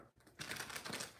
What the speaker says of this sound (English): Let's get a few shuffles.